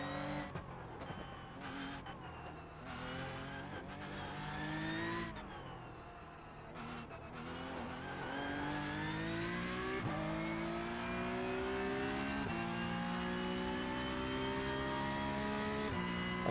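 Racing video game car engine revving steadily with shifting pitch, loud and continuous, with brief skids and a wall impact as the car takes damage to its front end; no talking.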